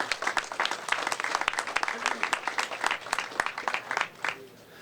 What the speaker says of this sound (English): give a round of applause to Warren Ghosh.